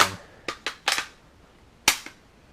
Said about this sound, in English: And you drop the mag, it fits right